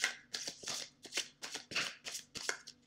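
Oracle cards being shuffled by hand in a quiet room, a run of about eight quick riffling bursts in a steady rhythm, close and moderately loud, with no talking.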